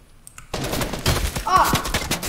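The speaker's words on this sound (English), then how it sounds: "I'm being shot at" Rapid gunfire bursts in a Fortnite-style building shooter with inverted colors, dense overlapping shots crackling over a steady background after a quiet start, fairly loud and close, with voices talking underneath.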